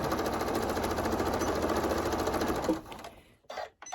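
A sewing machine runs steadily while back stitching a fabric pouch, a dense, rapid mechanical whir that continues for nearly three seconds and then stops, leaving only brief faint handling sounds.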